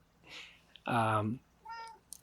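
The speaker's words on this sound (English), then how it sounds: "This is my cat, by the way." A pet cat meows once clearly and loudly near the microphone, followed by a shorter, fainter second meow, with soft talk and a voice around it in a quiet indoor room.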